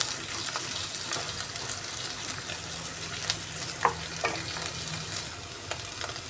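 Mashed potatoes and onions frying in a pan for aloo pittu: a close, even sizzling hiss with intermittent scraping stirs and light ticks, with no voices.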